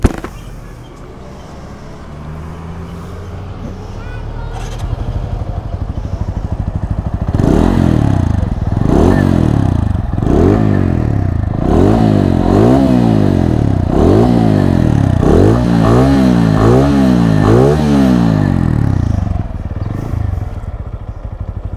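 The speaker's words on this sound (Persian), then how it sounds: "این موتور یه اگزاز دولول دو منبر رو هم داره که صدایی به نسبت خوبی تو 200cc داره" An Apache 200 motorcycle engine idles, then revs repeatedly in sharp bursts through a throaty dual exhaust, loud and close, each rev rising and falling.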